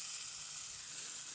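Spices for a tempering sizzle steadily in hot oil for a vegetable dish, a close, dense, even crackle with no talking.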